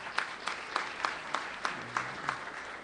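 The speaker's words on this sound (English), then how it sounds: "Give yourselves a round of applause." An audience at a political event claps in a rhythmic burst, a moderate, fairly sparse round of applause that carries on steadily for a few seconds.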